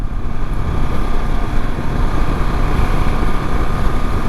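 KTM 690 Enduro R motorcycle ridden along a gravel road full of potholes, a steady loud engine drone mixed with heavy wind buffeting that stays constant throughout.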